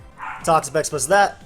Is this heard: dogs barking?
yes